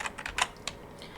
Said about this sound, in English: you just need to press backspace on your keyboard